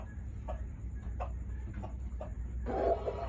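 A few chickens clucking softly in short separate bursts, fairly faint over a low background hum, with a slightly busier flurry of clucks at the end.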